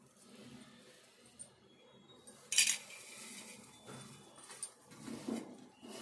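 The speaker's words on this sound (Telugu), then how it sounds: "వేసుకొని ఇదంతా దగ్గరికి వచ్చేదాకా కలుపుకోవాలి." A laddu mixture being stirred in a pan with a metal spoon, mostly faint scraping with a few sharper clinks against the pan, quiet and sparse, with no one talking.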